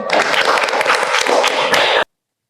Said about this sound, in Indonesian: Tepuk tangan lu untuk kelompok 1.